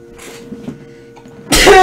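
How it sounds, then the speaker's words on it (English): A single loud, close sneeze bursts out suddenly after a short quiet stretch of faint background sound. "But I need to sneeze."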